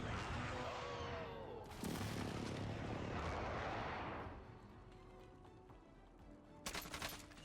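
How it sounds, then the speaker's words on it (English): Heavy booming artillery blasts from an enemy airstrike in Call of Duty Warzone roll in as a loud rumbling barrage, fading out midway, then a few sharp distant impacts near the end. "There's an enemy airstrike coming in."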